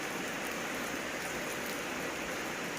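Rain falls steadily around a rural home in the morning, a dense, even hiss that holds at the same level throughout, close and fairly loud, with no voices.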